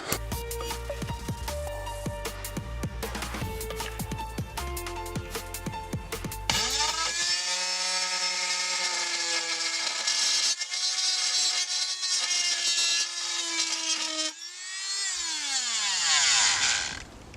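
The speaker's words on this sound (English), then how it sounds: "So to cut it, you can use a couple different tools. You can use like power tools." A power tool cuts a piece of a DIY cellphone stabilizer frame, starting with rough rattling bursts, then settling into a loud, sustained whining cut that shifts pitch as it bites and slows.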